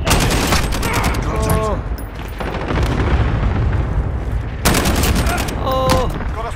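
Cluster strike explosions in Call of Duty Modern Warfare team deathmatch land as a loud, dense barrage of booms and crackling blasts, with a second burst of impacts arriving a few seconds later.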